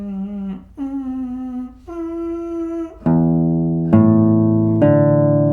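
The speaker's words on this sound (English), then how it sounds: "we should also learn the sound of the open strings like this" Open guitar strings plucked one at a time, each note ringing clearly and sustaining; in the later plucks the new note rings over the ones still sounding, with no talking.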